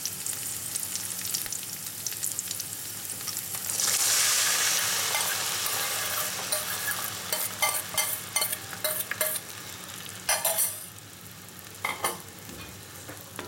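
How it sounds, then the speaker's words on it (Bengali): Chana dal is poured into a pan of sizzling cashews, raisins and potatoes, giving a steady loud frying hiss that swells as it lands, followed by scraping stirs and clinks of a spoon. "1/2 মিনিট নাড়াচাড়া করে নিয়েছি কাজু কিশমিশ আলুর সঙ্গে, এবার ঢেলে দিচ্ছি ডালটা।"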